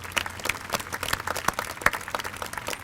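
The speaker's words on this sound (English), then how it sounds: "Please give them another nice round of applause." Audience applause at a high school commencement ceremony, a thin scattering of claps at moderate distance, uneven and fairly quiet throughout.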